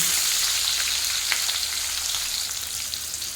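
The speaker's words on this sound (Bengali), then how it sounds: "তেল গরম হয়ে গেছে, এখন দিয়ে দেবো পেঁয়াজ কুচি" Chopped onion frying in hot oil for homemade chow mein, a steady close bright sizzle with faint crackles throughout, no voices.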